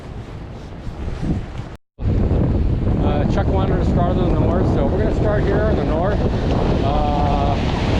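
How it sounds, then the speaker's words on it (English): Strong wind gusts across the microphone on a beach beside churning surf, a loud steady roar running throughout with a brief dropout near two seconds, while someone talks over it. "It's pretty windy out here, unfortunately."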